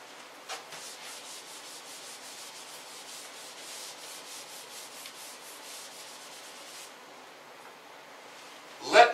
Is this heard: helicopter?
no